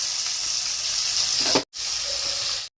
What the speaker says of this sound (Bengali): কড়াইতে এবার ফোড়ন দিয়ে নেব গোটা জিরে, তেজপাতা আর কুচো পেঁয়াজ।